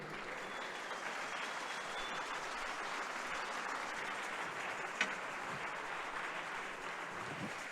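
A congregation at a church service applauds in praise of God, even sustained clapping that runs on at a moderate, somewhat distant level, with one brief sharp knock partway through.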